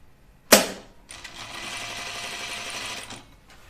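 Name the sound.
sewing machine stitching a wrap dress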